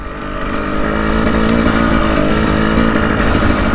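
An enduro dirt bike engine drones loud and close as it rides through solid ruts at an enduro event, holding a steady, continuous roar without talk.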